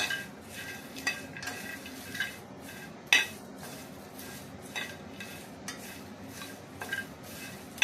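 Whole spices such as nutmeg and cinnamon stick are dry-roasted for biryani masala and stirred in a pan, giving repeated light scraping and rattling clinks with a few sharper knocks, close and fairly quiet with no talking.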